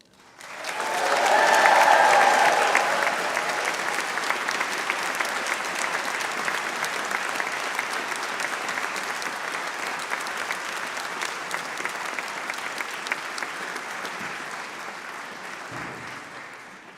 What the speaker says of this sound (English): Can we get a big cheer for the class of 2024?